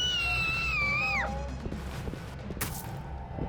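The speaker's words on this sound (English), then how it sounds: "a deep, metallic screech echoing through the room" A deep metallic screech echoes through a room in the BioShock video game, a loud wavering wail with falling pitch glides that fades into a low rumble, followed by a brief sharp hiss.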